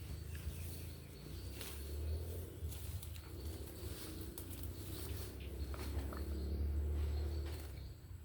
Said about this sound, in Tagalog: humuhuni naman siya kaso paputol-putol pa yung huni